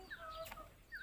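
A chicken clucks faintly, two short squawky calls about a second apart amid quiet background noise, with no one talking.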